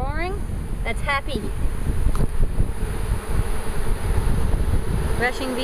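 Honey bees hum in a steady, dense drone during installation of a package into a hive, close and continuous, with a person briefly talking over it.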